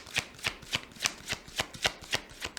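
Tarot cards shuffled for a reading, with about nine crisp, evenly spaced riffling bursts in a steady rhythm, close and clear with no talk.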